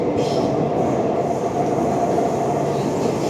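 Loud, continuous rumble of a Chennai underground metro train running toward Egmore station, a steady low roar with faint rattling and no talking.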